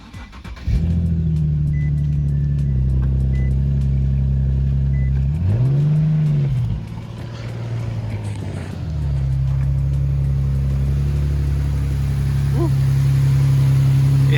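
Nissan 370Z engine with a newly fitted cold air intake, idling loudly up close with a deep steady rumble, then a single sharp rev that swells and falls before settling back into a throaty idle with heavy intake noise.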